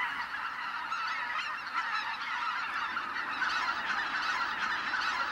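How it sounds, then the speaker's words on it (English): Dense flock of geese honking continuously before dawn at Lake Miyajima in Hokkaido, Japan, a loud overlapping chorus of many birds that swells slightly toward the end, with no voices. "Just before dawn, the cacophonous sounds of geese fill the area."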